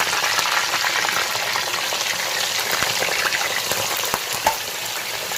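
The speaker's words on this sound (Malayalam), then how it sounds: "ഞാൻ ഈ ചിക്കൻ ജസ്റ്റ് ഒന്ന് ഫ്രൈ ചെയ്തെടുക്കുകയാണ്." Loud, continuous sizzling and crackling of food frying in hot oil, dense and close, with occasional small pops.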